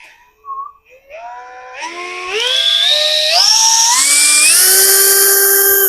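A brushless 3-in-1 cut-off tool motor rated at 20,000 RPM spins up on its variable speed trigger, rising in steps from a low whine to a loud, steady high-pitched whir.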